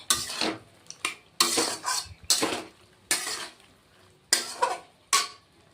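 Repeated scraping strokes of a spatula stirring potatoes and pointed gourd with spices in a pan for a paneer curry, about seven rhythmic sweeps with a faint sizzle underneath.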